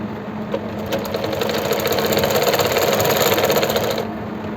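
A sewing machine runs steadily while stitching elastic onto palazzo pants, giving a fast, even mechanical whirring and clattering of close, continuous stitches for about four seconds, then stopping.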